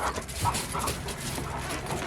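A dog pants close by in quick, breathy huffs with a faint whine mixed in. The panting continues steadily for a couple of seconds.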